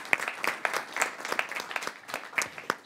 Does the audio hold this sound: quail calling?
no